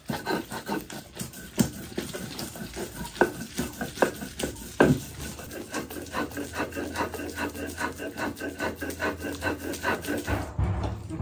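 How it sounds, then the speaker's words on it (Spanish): Soaked raisins for mole poblano being ground, a series of irregular gritty scraping and rubbing strokes, close and moderately loud, continuing steadily with no talk. "Aquí ya estamos terminando de acabar de moler nuestras pasas"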